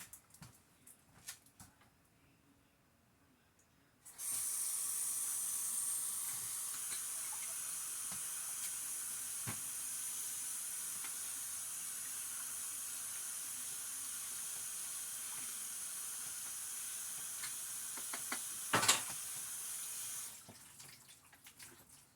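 Tap water runs steadily into a sink while salmon is rinsed, a close, even hiss that starts abruptly, carries on for about sixteen seconds and then cuts off, with faint handling clatter before and after.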